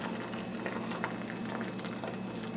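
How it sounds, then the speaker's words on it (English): Hot water poured into a bowl for Edward & Sons Not Beef vegan bouillon gives a steady, close, fizzing liquid rush without a break. "I'm adding water, hot water to this."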